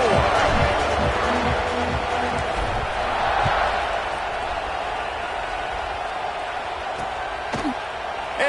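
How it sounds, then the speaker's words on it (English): A football stadium crowd buzzes after a touchdown, a broad distant roar of many voices with thuds and claps scattered through it, fading slightly over time. "this crowd is buzzing after that last score"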